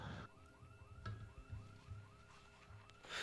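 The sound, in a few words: car alarm going off in the video game Project Zomboid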